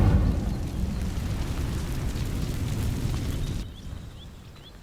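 A rushing fiery burst as the Incendio spell ignites dry vines in Hogwarts Legacy, loud at first, then roaring steadily before dropping away to a quieter crackle.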